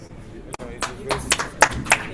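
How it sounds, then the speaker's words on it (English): Scattered clapping from a book festival audience in Ibadan, applauding a professor after his talk; a handful of hands clap in irregular bursts, building slightly toward the end, with voices murmuring underneath. "please a round of applause for Prof right there"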